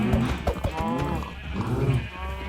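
Cows moo in a Minecraft game, several low drawn-out calls close together, clear and alone with no talk.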